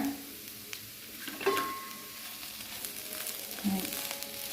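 Soybean and potato stir-fry sautéing on a low flame, with a gentle, close sizzle under occasional scraping stirs and light clinks of a spoon against the pan.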